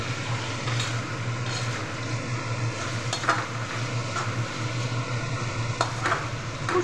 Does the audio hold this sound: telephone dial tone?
no